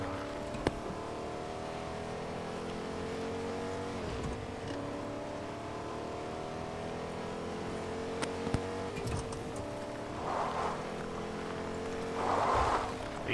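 James Bond's car in Fortnite drives steadily with a continuous engine drone and shifting pitch, and a few sharp clicks and bursts of game noise rise near the end.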